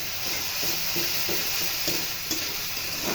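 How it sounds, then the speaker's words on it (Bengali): Tamarind pulp being stirred into coriander leaf chutney in a pan, a steady close sizzle with soft scraping stirs recurring about every half second and no voices. "এরপর 3 টেবিল চামচ তেঁতুলের কাঠ নিয়ে আবারও নেড়ে চেড়ে নিচ্ছি"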